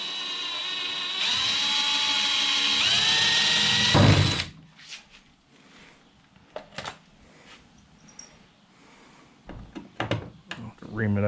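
A power drill bores mounting holes for launch wheels in an Appleby V-bottom boat: a loud, steady motor whine for about three seconds that changes pitch partway, followed by scattered clunks and handling noises.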